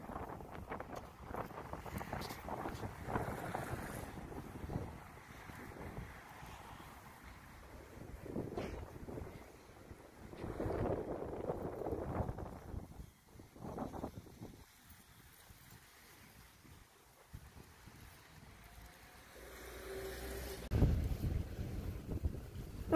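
Strong, cold, gusty wind in Anapa buffets the microphone with low rumbling roars that rise and fall in surges for the whole stretch.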